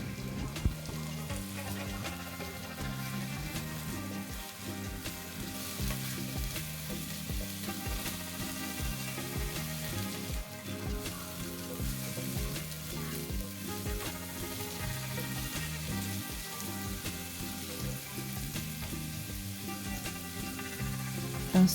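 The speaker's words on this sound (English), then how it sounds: "I'm adding in some ginger and garlic paste." Ginger and garlic paste sizzles steadily in a hot pan while carrot rice is being cooked, a constant close frying hiss with occasional stirring, without any voices.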